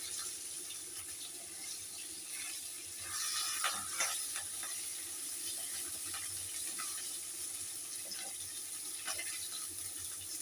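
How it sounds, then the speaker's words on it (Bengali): Hilsa fish head pieces deep-frying in plenty of oil for a Malabar spinach dish, a continuous bubbling sizzle with occasional crackles and a brief louder burst partway through, no talking. "ছাকা তেলে ভেজে নিচ্ছি"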